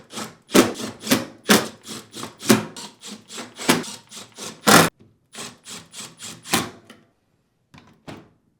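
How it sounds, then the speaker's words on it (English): Screws being driven back into a Whirlpool KitchenAid dishwasher inner door panel, loud close bursts of screwdriver scraping and rubbing in uneven strokes, ending in a few fainter turns. "while supporting the panel, reinstall the remaining screws"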